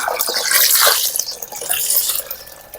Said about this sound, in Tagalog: Nag-drain na yung tubig guys.